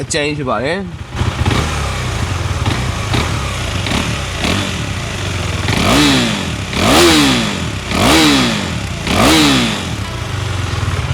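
A KTM Duke 390 motorcycle engine idles with a rough clatter, then revs sharply in four quick bursts, each rising and falling, loud and close.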